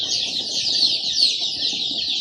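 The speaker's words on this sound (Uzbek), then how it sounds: "Sog'lom jo'jalar." Twelve-day-old Andijan black chicks cheep constantly in a high, dense chorus, many tiny voices overlapping loudly and close, with faint low rustling beneath.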